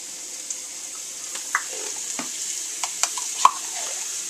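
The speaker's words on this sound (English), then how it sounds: "I'm also going to be putting in the tomato paste." Tomato paste being stirred into chili in a pot, giving a soft steady sizzle with scattered light clicks and scrapes from the spoon, close and alone without talk.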